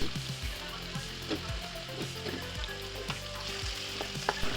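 Onions and green chillies for chicken curry fry in a pan with a close, steady sizzle, and a spoon scrapes and stirs at irregular intervals over it.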